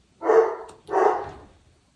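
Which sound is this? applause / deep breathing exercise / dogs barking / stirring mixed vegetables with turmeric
dogs barking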